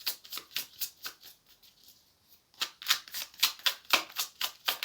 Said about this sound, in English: Excuse me if I'm shuffling a little bit here.